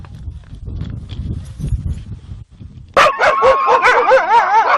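Greenland sled dogs bark and yip on a hunting day, starting with scattered low rustling and thumps, then breaking into a loud chorus of overlapping high-pitched yelps and howling barks close by.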